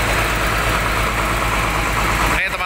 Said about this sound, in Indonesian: mesin baru nih. Dari ALS 270 yang kemarin turun mesin di Medan